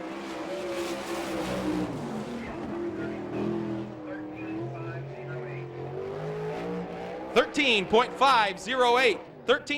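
A race car at Fremont Speedway in Fremont, Ohio, car number 37 driven by Sean Stidful, roars steadily through a qualifying lap at an All Star Circuit of Champions night, with an announcer talking over it, then rising shouts and cheering near the end.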